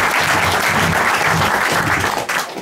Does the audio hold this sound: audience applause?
yes